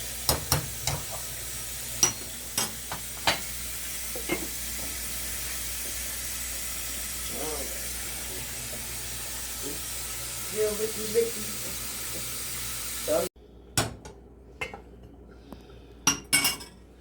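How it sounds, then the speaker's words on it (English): Carrots and onions sauté in a pan as a soft, continuous low sizzle, with scattered utensil clinks and knocks throughout and a few louder clatters near the end. "Okay, sauteing the carrots and the onions."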